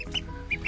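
Baby ducklings peep in short, high, thin chirps, two or three brief calls close by over a low background hum, with no talking.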